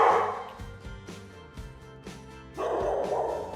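A small, timid house dog barks repeatedly, several sharp close barks in uneven bursts with whimpery tones between, loud and near with no talk over them.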